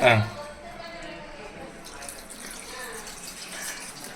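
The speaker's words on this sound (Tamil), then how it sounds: "தண்ணி கூட கொஞ்சம் ஊற்றுவோம்னா" Water runs and splashes steadily into a cooking pot of village-style chicken curry, a continuous rushing pour with a brief louder clatter at the start.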